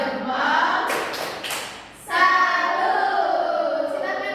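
A primary school class claps a rhythmic salute cheer for a student: a few sharp claps in a group, then voices chanting along in unison.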